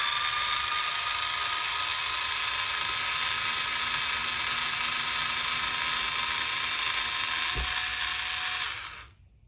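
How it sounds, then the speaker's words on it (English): A power driver whirs steadily on the chassis brace screws of an Arrma Fireteam RC basher, a continuous close mechanical buzz that holds for most of the stretch with one brief knock, then cuts off abruptly. "I'm going to go ahead and unscrew this."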